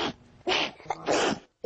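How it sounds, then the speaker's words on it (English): A 12-year-old girl with a chronic sneezing condition sneezes two or three times in quick succession, each sneeze loud, close and forceful, with brief breathy pauses between them. "I can't stop sneezing."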